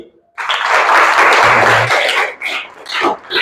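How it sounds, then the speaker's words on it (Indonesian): Classroom applause from students, a burst of hand clapping that starts abruptly, holds strong for about two seconds, then breaks into scattered claps with faint voices. "Tepuk tangan sekali lagi."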